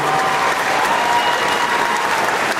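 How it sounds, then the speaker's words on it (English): Audience applause for guests at a Wizarding World of Harry Potter event at Universal, a dense, steady clapping from a sizable crowd, loud and sustained throughout with no voices over it. "give them another big round of applause"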